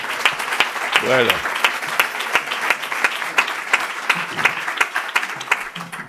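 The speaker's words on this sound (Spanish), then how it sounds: "Un aplauso, por favor." Audience applause at a happiness forum, a crisp, continuous patter of many hands at close range with distinct sharp claps, and a brief spoken word near the start.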